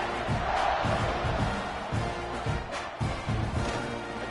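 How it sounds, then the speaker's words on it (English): A stadium crowd at a football game gives off a continuous, broad roar that stays fairly loud throughout, with faint voices mixed into the din. "this crowd now ready to get behind them"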